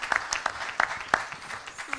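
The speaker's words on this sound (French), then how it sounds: "je crois qu'on peut applaudir Alex Simons" An audience at a round-table discussion on the economy gives brief, sparse applause. A handful of separate, uneven claps sound close by, with no steady wash of clapping behind them.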